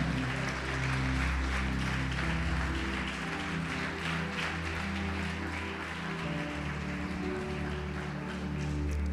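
A church congregation claps together at a worship service, a steady sustained applause filling the room with no voices over it.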